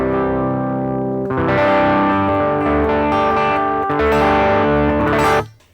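Bass guitar played through a Boss FBM-1 '59 Bassman pedal with the mids boosted: a thick, warm, slightly driven riff of sustained notes and quick runs, loud and close, ending with a sudden cutoff.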